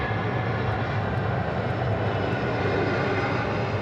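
A Delta airliner's engines roar loudly and continuously at Atlanta Hartsfield-Jackson airport, a dense, unbroken rumble close by with no voices over it.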